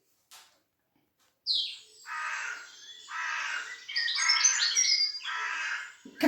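A voice imitates a bird, with a sharp chirp followed by a series of harsh, crow-like caws in uneven bursts, close and fairly loud with quiet gaps between.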